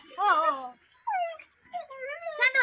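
A hungry dog left alone at home for two days whimpers and whines in several drawn-out, rising and falling cries, fairly close, with short pauses between them.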